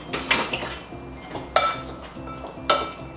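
A spoon clinks against a bowl while drained green beans dressed with lemon juice are stirred, giving three or four bright, close knocks over a faint low hum.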